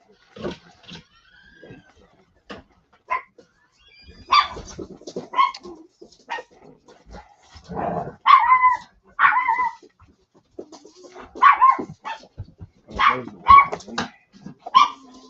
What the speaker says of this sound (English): that dog's gonna drive me nuts.